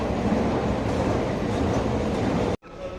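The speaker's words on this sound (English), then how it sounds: "Now I'm going underground in the metro." A metro train in Istanbul's underground system roars loudly and steadily with broadband rumble and rail noise, then cuts to near-silence briefly before a quieter hum returns.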